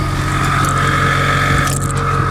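A Subaru WRX engine running through its full exhaust, a loud, steady low rumble that holds throughout with no talking.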